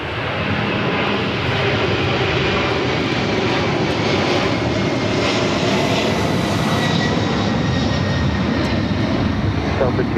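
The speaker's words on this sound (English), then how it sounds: "We have a Northern Air Cargo 767 taking off." A Northern Air Cargo Boeing 767 jet takes off at LAX, a loud, continuous broadband engine roar sustained throughout, with faint talk beneath it.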